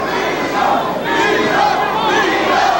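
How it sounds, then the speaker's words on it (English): A boxing arena crowd at a fight between Vito Antuofermo and Marvin Hagler chants his name, the massed voices rising and falling steadily in the background without a break. "Crowd in the background now chanting, Vito, Vito"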